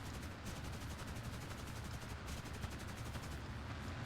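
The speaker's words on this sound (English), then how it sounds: "I've never had a bad Vickers K gun" Vickers K defensive machine gun fire from a Hampden TB Mk1 bomber in War Thunder, a fast continuous rattling burst of rapid shots sounding throughout, fairly quiet and without voices.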